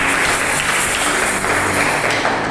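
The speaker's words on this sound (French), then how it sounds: "On applaudit ça." Loud, dense applause from a church congregation honouring a mother during a prophetic service, sustained evenly throughout with no voices rising above it.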